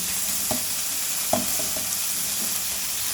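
Ridge gourd cooking with coconut sizzles quietly in a pan as ghee and garam masala go in, a steady low hiss broken by a few soft stirring clicks.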